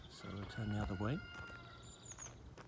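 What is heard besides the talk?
rooster crowing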